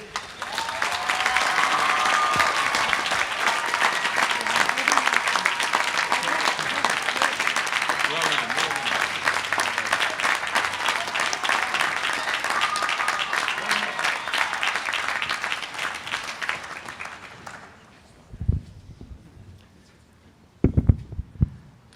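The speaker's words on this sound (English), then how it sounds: "So give yourselves a round of applause" Sustained applause from a graduating law school class at a commencement ceremony, dense and loud for about seventeen seconds before fading out, followed by a couple of brief isolated thumps.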